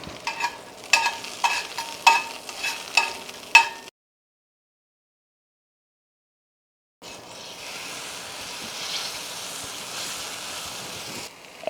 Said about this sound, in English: we're going to go ahead and saute up the asparagus a little bit